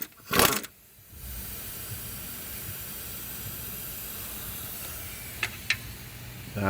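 Steam hisses from the hot coolant of an overheating car during a radiator repair: a loud burst at the start, then a steady low hiss with two brief sharp spurts near the end.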